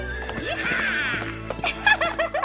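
A cartoon horse lets out a loud, shrill whinny that wavers and falls away, amid hoof clatter and brief voices and laughter in an animated scene.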